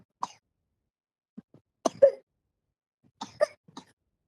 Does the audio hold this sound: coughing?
yes